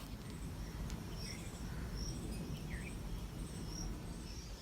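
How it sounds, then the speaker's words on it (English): Faint bird calls and chirps drift over a steady outdoor hiss of insects, distant and quiet throughout. "so many sounds of birds"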